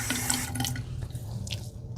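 Running water from a sink faucet wets an exfoliating facial cleansing device with beads, a steady close splashing and trickling with faint drips, no talking.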